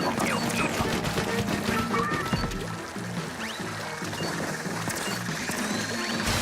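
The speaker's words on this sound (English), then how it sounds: "What if I shoot Otto" Rapid weapon fire in the Splatoon 3 Salmon Run mode, a dense, steady splattering burst with game music and effects layered under it throughout.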